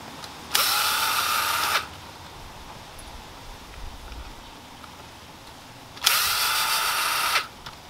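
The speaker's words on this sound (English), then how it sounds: "I'm just going to use a Phillips head screwdriver, loosen these screws" A powered Phillips screwdriver loosening screws on a Rainbird DVF sprinkler valve, two separate whirring bursts of about a second each with quiet pauses between, fairly close.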